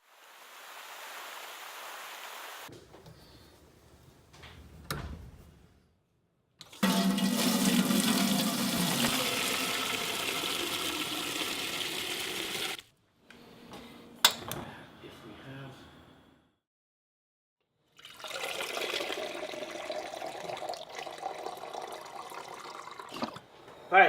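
Running tap water pours over pickling cucumbers as a sponge scrubs their thorny skins, the rushing water coming in several long bursts separated by quieter pauses with handling noises, close and fairly loud.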